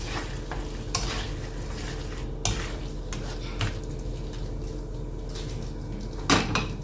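Chicken curry with fenugreek and potatoes being mixed in a pot after green chilies go in, a steady low sizzle under repeated scraping strokes and occasional metallic clanks, close by and without speech.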